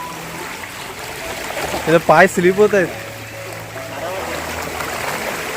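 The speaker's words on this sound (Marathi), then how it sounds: "पाणी चांगलं झालंय वरतून फोर्स आहे पाणी एकदम थंड गार आहे" Strong, cold water rushes down from above at a village spot, making a constant broadband roar throughout while a voice speaks briefly over it.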